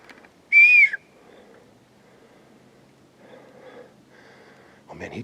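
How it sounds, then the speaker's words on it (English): A person whistling with the lips in the woods: one short, loud, clear whistled note near the start, then quiet rustling and faint breathy sounds, with a brief harsh burst at the end. "I got real whistles. It's incredible. It's a person whistling."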